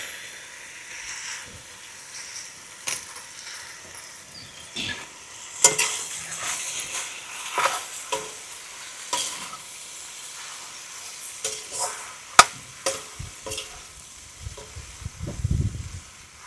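Spiced food fries in a pan at home and gets stirred, a soft steady sizzle under sharp intermittent scrapes and clinks of a spoon against the pan, fairly quiet and close.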